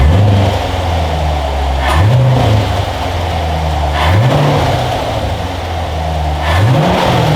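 A Corvette C7 V8 with a K&N air filter intake idles loudly and close, then is revved in four evenly spaced blips, each a quick rising roar that falls back to a low rumble, with no talk.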